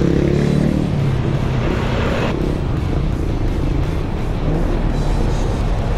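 Heavy night traffic on a congested road, a steady dense rumble of car engines passing close by with no clear breaks, loud throughout.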